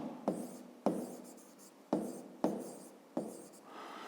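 A pen writes on paper during a Ukrainian fifth-grade maths lesson, giving five sharp scratchy strokes at a steady pace, each fading into soft scribbling, faint and close with no talk.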